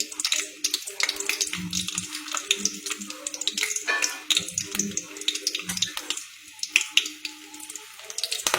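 Garlic drops into hot oil and sizzles, a crackling, spitting fry with irregular pops and some clinks and stirring, close and fairly quiet without anyone speaking.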